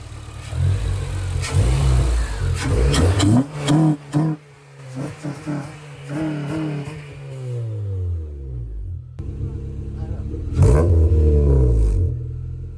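A modified Honda car engine revs up and down repeatedly, rising and falling pitch sweeps, loud and close, settling toward idle before another rev.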